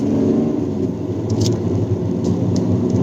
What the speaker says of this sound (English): Now let's just try accelerating.